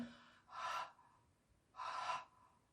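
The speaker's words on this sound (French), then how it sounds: "vous expirez donc vers l'avant, vous inspirez en arrière, expirez, inspirez" Two slow, deliberate breaths drawn in and out through the mouth, soft airy rushes close to the microphone separated by quiet pauses.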